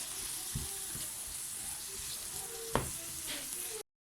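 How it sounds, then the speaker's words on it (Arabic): Bell peppers and onion fry in oil for a seafood paella, giving a steady close sizzle with a few soft knocks of stirring and one sharper clink near the end. "انا درت الفلفله والبصله يتقلاو ليا بالزيت"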